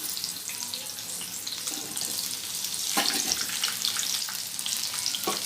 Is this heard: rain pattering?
no